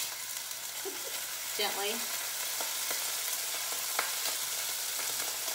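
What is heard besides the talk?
skirt steak sizzling as it is laid into pan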